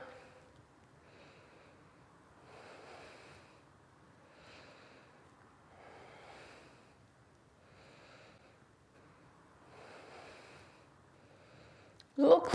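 Slow, deep breaths during a vinyasa yoga flow, a series of soft rhythmic inhales and exhales heard close and quiet, with a brief louder sound right at the end.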